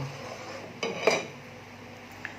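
Metal utensil scraping and knocking against a pot while stirring boiling soy milk for homemade tofu, a few soft clinks and scrapes over a low steady simmer, close and fairly quiet.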